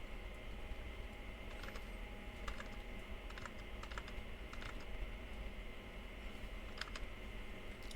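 Code typed on a computer keyboard: quiet, scattered clusters of key clicks with short pauses between bursts, over a steady low background hum, with no voices.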